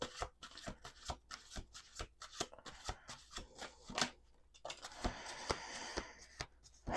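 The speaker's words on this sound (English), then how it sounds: "Let's do 2 more shuffles." Tarot cards are riffled and shuffled by hand in a quick series of crisp bursts, close up, with brief pauses between shuffles.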